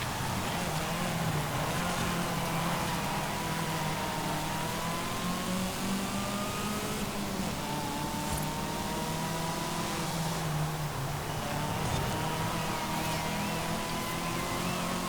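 A supercharged car in Forza Horizon 5 drives hard during a seasonal championship race, its engine droning with a rising and falling whine over dense, continuous road and engine noise, steady and loud with no pauses.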